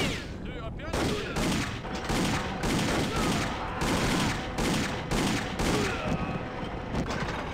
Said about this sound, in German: Die schießen sehr viel schneller, als ich dachte.